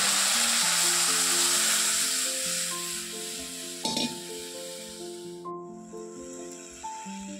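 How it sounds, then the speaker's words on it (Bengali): Dry chillies, black cumin and onion frying in a wok, a bright continuous sizzle and hiss under a melodic music track, with one brief stirring scrape partway through. "কড়াইয়ে শুকনো লঙ্কা, কালো জিরা আর পেঁয়াজটাকে দিয়ে একটু ভালো করে কড়া করে ভেজে নিয়ে"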